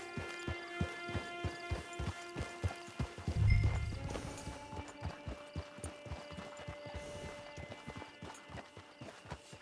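Horse hooves clip-clop at a steady galloping rhythm in the Western game Red Dead Online, close and loud, with a brief louder thud partway through and a low hum underneath.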